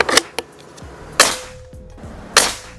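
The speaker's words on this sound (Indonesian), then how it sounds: "tembakan yang kelima" Crisp, snappy shots from a Mouser Klasik OD 32 PCP air rifle, three loud cracks spaced roughly a second apart with smaller clicks between, each decaying quickly.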